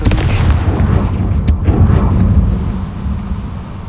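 A Confringo fire spell blast in the Hogwarts Legacy video game, a heavy rumbling boom with a sharp crack partway through, fading into a low tail.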